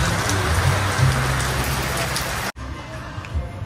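Steady rain pours down on the pilgrimage route between Vaishno Devi and Bhairavnath Temple in Jammu, a loud, dense patter that cuts off abruptly partway through and continues more quietly afterward.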